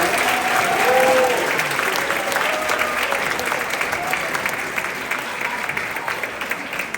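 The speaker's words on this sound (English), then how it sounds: "just a massive round of applause to all our goalkeepers across the age group" A room full of people at a youth football club awards ceremony applauds the goalkeepers, sustained clapping with a faint crowd murmur that peaks early and slowly thins, while a few voices sound faintly beneath it.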